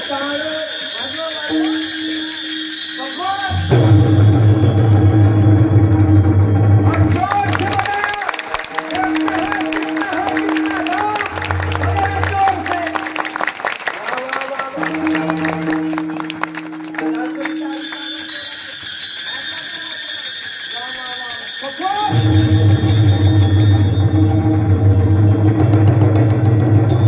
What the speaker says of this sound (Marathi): गोळा गोळा जाती टाळ वाजवा